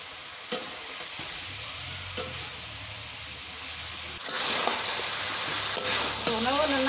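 Surma sea fish curry sizzles and fries in a pan during a village morning cook, with a steady hiss broken by scraping strokes of a stirring spoon, close and continuous.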